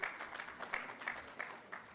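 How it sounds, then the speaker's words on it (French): Moderate audience applause at a formal ceremony installing a scientific committee for curriculum reform, a steady wash of clapping at low level, fairly distant and without talk. "Sous vos applaudissements modérés mais très puissants."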